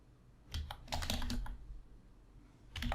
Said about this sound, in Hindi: हम यहाँ पर नेम एंटर करते हैं, ईमेल एड्रेस टाइप करते हैं, कोई पासवर्ड टाइप करते हैं